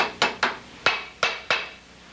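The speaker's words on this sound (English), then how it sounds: "It's when I'm pounding the tacks in here." A hammer with a knurled face drives tacks into leather during shoe lasting, five sharp close strikes in an uneven rhythm, each with a short ringing decay, with no talk.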